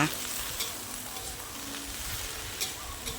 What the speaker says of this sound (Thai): เราก็ผัดให้กระลำปีนิ่มนะคะ